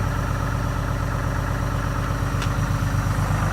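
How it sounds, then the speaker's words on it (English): Cummins diesel engine idling close by with a constant low rumble and vibration, and a faint high turbo whine running over it. "You can actually hear the turbo."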